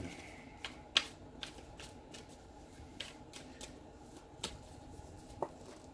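Playing cards are shuffled up close in quick, crisp riffles, with soft papery flutters and sharper taps at irregular intervals.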